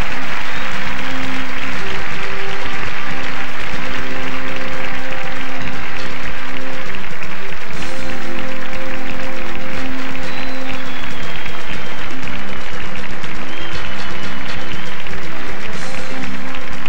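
Loud, sustained applause from a large audience at the 1998 Kral TV music awards ceremony welcoming a performer on stage, dense clapping over steady tonal music with brief swells of cheering.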